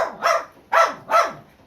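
A pet dog barks three times in quick succession, sharp and close, with brief pauses between each bark and no other sounds.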